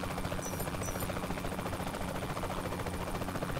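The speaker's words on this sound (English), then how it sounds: "this helicopter is loud as shit" A helicopter in the video game Saints Row The Third Remastered gives a loud, continuous rotor drone with a steady pulsing chop that stays constant throughout, with no talking.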